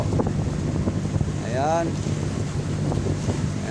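Strong typhoon wind at sea on a boat heading out, a dense continuous roar with rumbling gusts against the microphone, loud and close, while someone speaks briefly over it.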